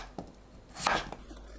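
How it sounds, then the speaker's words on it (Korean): Kitchen knife slicing quartered potato into thick slices on a cutting board: a couple of sharp close cuts, the loudest near the middle, with faint background hum. "감자를 4등분하고 1cm 두께로 썰어주세요."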